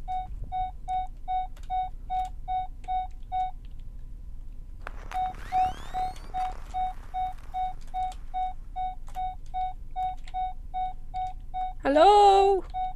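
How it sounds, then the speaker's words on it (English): Electronic alien tracker in a Minecraft adventure map beeping in a steady fast rhythm of short tonal bleeps, pausing briefly while a sweeping noise passes, then resuming, with a louder warbling tone near the end. "this thing is beeping mad"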